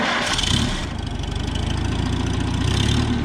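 Vintage 1948 John Deere M or 1949 Farmall C tractor engine chugs loudly in a cold snowy setting, a rough pulsing idle with a steady rapid beat, close and alone.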